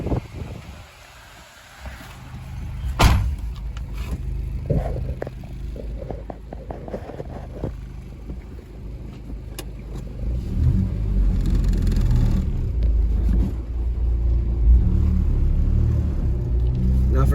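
A Honda Civic with a swapped K24A2 engine and 3-inch exhaust idles and then pulls away, a low rumbling exhaust note with clunks and shifts early on, building into a steady, louder drone as the car gets moving.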